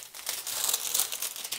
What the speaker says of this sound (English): I'm able just to take the plastic bag and put it down again